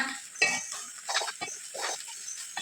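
Cut pieces of leftover chapati being stirred and tossed in a pan, giving a few close scrapes and soft clatters against the metal over a faint sizzle, with no voices.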